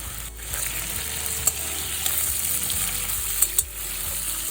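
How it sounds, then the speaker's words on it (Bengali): Cubed potatoes frying in hot mustard oil with a pinch of salt, a continuous close sizzle with a few sharp pops and stirring clicks, no talking. "এই আলুগুলো আমি খুব ভালো করে লাল লাল করে ভেজে নেব"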